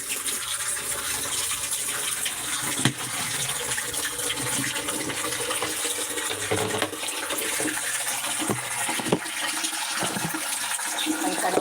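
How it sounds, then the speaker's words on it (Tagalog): Tap water runs into buckets with a loud, continuous gushing rush for about twelve seconds, a few small knocks breaking through the steady flow. "Ipon lang tayo ng tubig."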